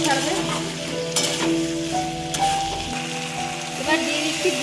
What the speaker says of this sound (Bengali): জিরে বাটা দিয়ে ভালো করে কষিয়ে নিতে হবে,